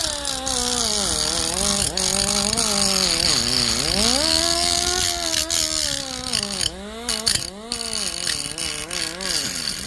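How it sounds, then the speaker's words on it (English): A pneumatic cutoff wheel running off a shop air line is used to clean brake caliper brackets, giving a loud, steady whine with rising and falling pitch as the wheel bogs against the metal and recovers, continuous for the whole stretch. "I would take this cutoff wheel. I've got it hooked up to my airline right here"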